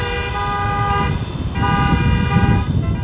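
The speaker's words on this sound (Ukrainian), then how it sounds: "Гучний звук від автомобільних сигналів цього дня було чути на всю околицю." Car horns honking at a protest in Odesa, overlapping sustained toots blaring loudly and continuously, with a short dip in the middle, close by over traffic rumble.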